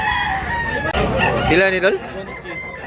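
Roosters and chickens for sale at a Cebu Tabunok market give a nearby crow that rises and bends midway, mixed with scattered clucking, while vendors talk over the busy stalls.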